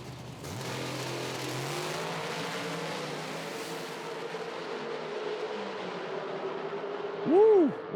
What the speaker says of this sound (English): what an excellent drag race